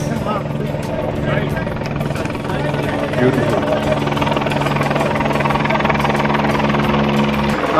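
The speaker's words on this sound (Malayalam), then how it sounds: "ഒരു ഹെലികോപ്റ്റർ ലാൻഡ് ചെയ്യുന്നുണ്ട്" A helicopter lands at a Himalayan airstrip on the Everest base camp trekking route, its steady rotor and engine drone holding loud and continuous throughout, mixed with people talking nearby.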